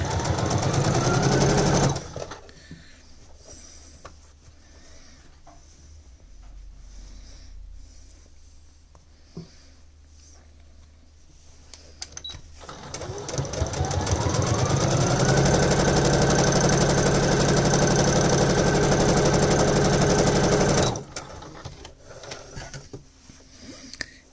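A sewing machine stitches fabric with a rapid mechanical chatter during a bag organizer build, running in two long bursts separated by a quieter pause in the middle.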